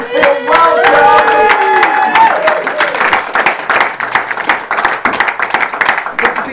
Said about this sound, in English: can you please give a huge round of applause as these two people join me on stage